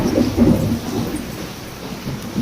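Thunder rumbles during a rainstorm in Sathankulam, a loud, low, rolling boom that swells near the start and slowly fades over a couple of seconds above a steady hiss of rain.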